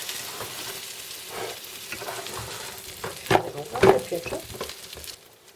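Food sizzles and crackles steadily in a hot pan with oil and butter, with a few louder spatters and clinks of stirring near the end.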